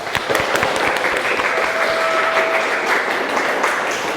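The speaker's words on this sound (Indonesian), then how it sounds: "tepuk tangan dulu" A classroom audience gives a steady round of clapping, dense and even for a few seconds, with no talk over it.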